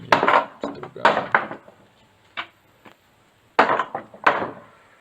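Nails being pulled and knocked out of wooden pallet stringers with basic workshop tools, giving sharp irregular knocks and creaks in bursts with quiet gaps, close by.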